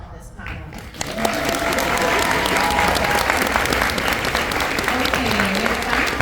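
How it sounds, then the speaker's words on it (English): Audience at a fan convention panel about Ahsoka breaks into sustained applause, dense and loud throughout after a brief quieter opening, with faint voices and cheers mixed into the clapping crowd. "Let's have a round of applause for the first part of this panel."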